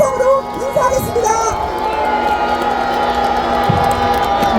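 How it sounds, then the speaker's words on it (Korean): A large outdoor crowd at a political rally in a public square cheers and shouts loudly and continuously, with scattered whoops and clapping over a sustained roar. "큰 박수와 함성으로 인사하겠습니다"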